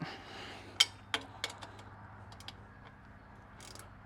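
A ratchet tightens bolts on a Mercury 60HP outboard motor, giving a few sharp clicks and short ratcheting bursts, close and fairly quiet, then softer faint ticks.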